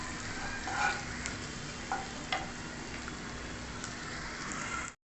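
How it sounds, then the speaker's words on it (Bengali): Chopped egg pieces fry in a pan of oil, giving a dense, even sizzle with occasional clicks of stirring, close up, and no voices. "একটু ভাজা ভাজা করে আমি নামিয়ে নেব"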